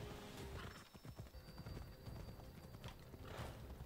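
A horse's hooves clip-clop in a steady rhythm through the Assassin's Creed Odyssey game world, mid-level and continuous among ambient game sounds and a faint tonal whine.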